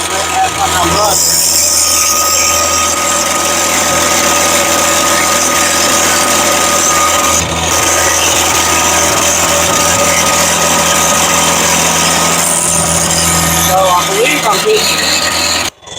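A Bobcat skid steer runs with its engine droning loudly and steadily, air rushing through the radiator in a constant broadband roar, with talking over it.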